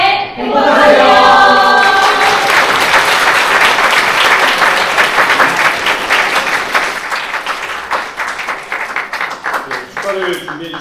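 Wedding guests in a church in Anyang give sustained, loud applause that fills the space and gradually thins out, with some singing or voices audible near the start.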